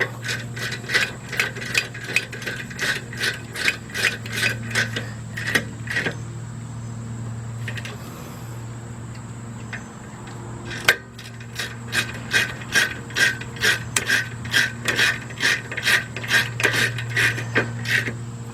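A ratchet tightens the rear brake caliper bracket bolts on a 2001 Jeep Grand Cherokee Laredo, with close, fast clicking in rhythmic runs, a quieter stretch midway, then more steady clicking over a low hum, without talk.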